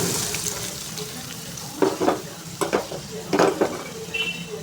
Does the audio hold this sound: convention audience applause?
no